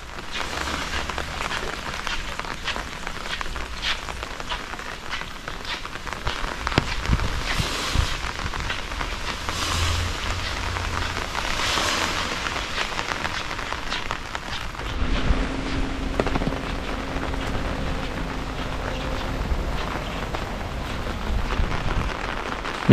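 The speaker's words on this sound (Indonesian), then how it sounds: "Hujannya agak mulai reda, nggak deres banget kayak tadi." Heavy storm rain falling on a Japanese village, a dense, steady patter drumming on roofs and surfaces nearby, shifting slightly in texture midway, with no one speaking.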